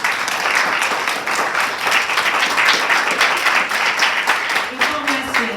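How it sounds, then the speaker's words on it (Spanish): Church congregation applauding together in sustained, dense clapping that fills the space, with voices and cheers mixed in throughout. "Denle un aplauso al Señor."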